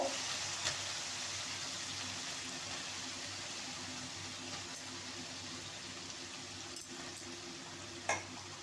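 Steady, even sizzle of hot oil in a pan with fried spices, continuous frying hiss throughout with a few faint clinks of a utensil, potatoes having just gone in.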